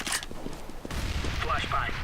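Grenade throw amid a CS:GO firefight, set against steady bursts of distant gunfire and game noise, with a sharper burst near the start and a dull low rumble swelling halfway through.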